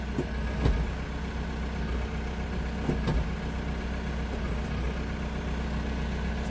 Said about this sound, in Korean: 자 시동을 켜서